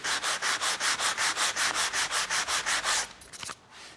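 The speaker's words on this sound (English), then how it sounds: "The next step would then be to sand with a 120 grit sandpaper." Wood is sanded by hand with 120 grit sandpaper during wooden boat building, about fourteen even, rhythmic rasping strokes, close and clear, then a few softer scuffs and handling noises.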